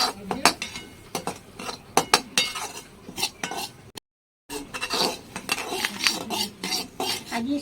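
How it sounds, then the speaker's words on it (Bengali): Semolina being fried and stirred in a metal wok, with a spatula repeatedly clinking and scraping against the pan in an irregular rhythm, close and bright, with a short dropout midway. "সেই কড়াইতে আমি এই সুজিগুলো ভেজে নেবো ভেজে ভিতরে সুজিটা করে নেবো"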